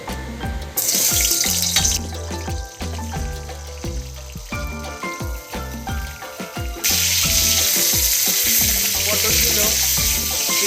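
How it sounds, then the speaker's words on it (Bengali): Pointed gourd pieces go into hot oil, and a loud, bright sizzle swells and fades as they fry, with a dense crackle and clattering kitchen sounds layered on top. Near the end the sizzle rises sharply and stays strong. "তেলটা গরম হতে আমি পটলগুলোকে আস্তে আস্তে ছেড়ে দেবো"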